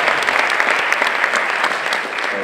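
A theatre audience at a film premiere gala applauds as guests walk onto the stage, the clapping dense, steady and loud throughout, with no voices over it.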